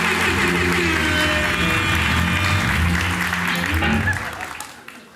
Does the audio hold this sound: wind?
no